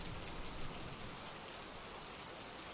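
Rain falls in a village as a fisherman heads out into the storm. It is a steady, even hiss of heavy rainfall on surfaces, continuous and fairly soft, with no other sounds.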